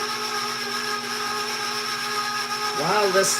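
A stand mixer whirs steadily as it blends dry ingredients for a chocolate cake baked in cast iron, a constant motor hum with a brief shift in pitch near the end.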